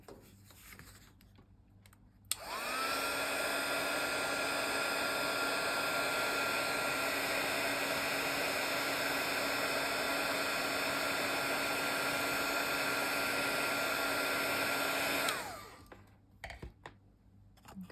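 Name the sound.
heat tool blowing for a craft card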